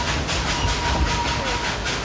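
A steam train, engine 192 Klondike Katie, rolls along the rails through the Smoky Mountains at Dollywood, a steady rumbling rush with rhythmic pulsing clatter and hiss throughout the short stretch.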